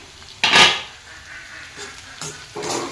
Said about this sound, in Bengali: এয়া আলু ভাজি বনাইছোঁ এনেদৰে এইখিনি অলপ পৰপৰে লৰাই দিলোঁ